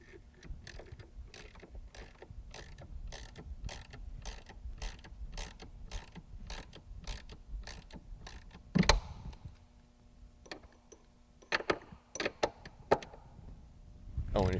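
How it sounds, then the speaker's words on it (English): A hand ratchet clicks in a fast, regular series while bolts are tightened during a conversion kit install, then stops. A louder knock follows, and a few scattered clicks and clunks come after it, all close up and fairly quiet. "if you notice, I got my ratchet because I needed it for those other bolts"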